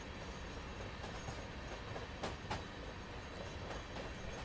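Freight train from Train Simulator 2019 rounding a curve near the Quincy yard on the Feather River Canyon route, a steady broadband rolling rumble with a couple of brief louder clanks partway through and no voices.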